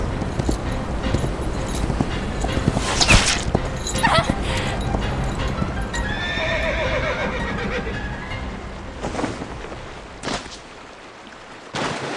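A horse whinnies loudly up close in a dramatized chase, a long shrill neigh standing out midway amid rumbling hoofbeats and background noise, with other sounds fading toward the end.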